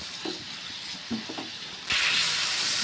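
Keema with garam masala being stirred in a pan, a soft frying hiss with a few scraping spoon strokes, then a louder, brighter sizzle surging in for the final second.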